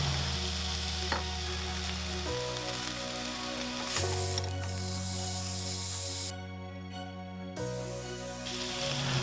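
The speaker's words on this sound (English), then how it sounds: "Oil a pan and when hot, seal each side of the steak for a few minutes." Steak seasoned with salt and cracked black pepper sizzles steadily in a hot oiled pan, a constant close frying hiss running throughout with faint background tones.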